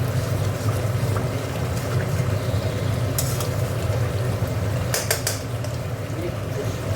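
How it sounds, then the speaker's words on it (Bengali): Onions cooking down in spiced oil in a pan for a duck egg curry, with a steady low sizzle and a few sharp clinks of a spoon scraping and stirring against the metal. "পেঁয়াজটা পুরো গলে গেছে কষতে কষতে"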